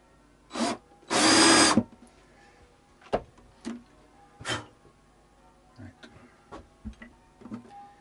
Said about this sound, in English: Not without drilling further with the 10mm one